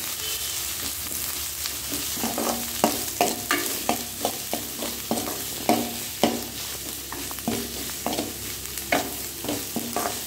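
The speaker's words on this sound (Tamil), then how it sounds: "நல்லா அந்த இஞ்சி பூண்டு வந்துட்டு பச்சை வாசம் போகணும். அந்த அளவுக்கு வதக்கிக்கோங்க." Ginger-garlic paste, with onions, is sautéed in a pan, giving a steady sizzle. Repeated scrapes and taps from stirring sound close by, without talk.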